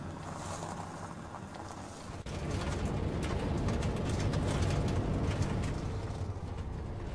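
A modded car engine in the Takistan Life game idles as a low, faint rumble, stepping up to a slightly fuller, steadier drone partway through, with no talking.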